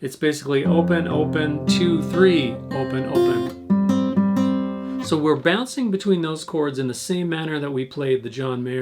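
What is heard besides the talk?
No everyday noise stands out behind the speech.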